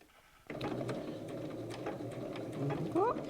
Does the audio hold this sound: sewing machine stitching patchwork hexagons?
yes